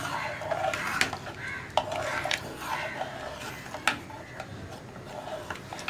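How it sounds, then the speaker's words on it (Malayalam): A spoon scrapes and taps around a pot of onion and lentil parippu curry as it is stirred, with soft irregular clinks and knocks, close and quiet. "ഇതൊന്ന് ഇടയ്ക്ക് ഇളക്കി കൊടുക്കണം."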